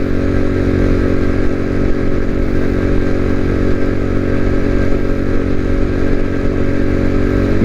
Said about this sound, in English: Get a lot of looks on this bike.